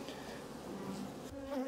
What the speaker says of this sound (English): bees are moving everywhere